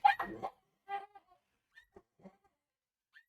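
A dog whimpers and gives a few short yelps and barks, loud at first and then fading into scattered faint whines with gaps of quiet between them.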